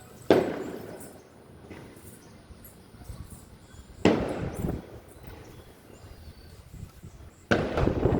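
Firecrackers burst outside at night in three sharp, booming reports spaced a few seconds apart, fairly distant, with a faint hum and crackle between.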